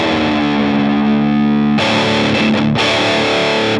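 A heavy, distorted electric guitar tone through a Mad Driver overdrive pedal rings as a loud sustained chord, then two further chords ring in the same way.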